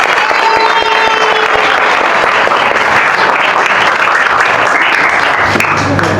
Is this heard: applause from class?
yes